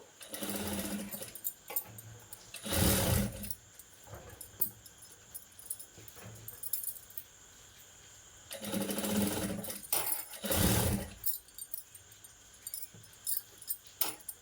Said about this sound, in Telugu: కుట్టు అనేది వేసుకోవాలి